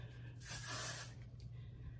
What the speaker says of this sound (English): So I have some Got2b glue-free spray. Just gonna spray a little bit.